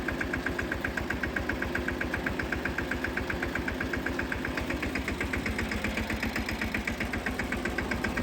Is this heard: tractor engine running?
yes